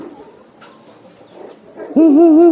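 Racing pigeons at a loft, with faint background murmur before a loud, close, drawn-out cooing call sets in and holds to the end.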